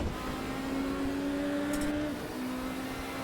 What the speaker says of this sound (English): By the sound of that, BMW.